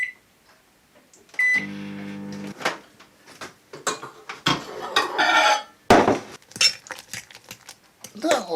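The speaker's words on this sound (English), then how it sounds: "now I'm going to put them in the microwave for about 10 minutes" A microwave oven's steady mechanical hum with a low tonal drone runs for a second or so, surrounded by clattering dishes and cutlery clinks in a kitchen.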